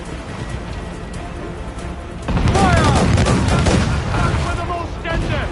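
Enemy ship cannons in a video game fire a loud, close burst of booming shots with crashes, over ongoing battle noise and shouting voices.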